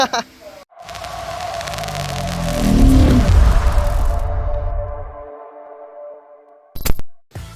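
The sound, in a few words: Kawasaki ZX25R motorcycle exhaust with new OEM muffler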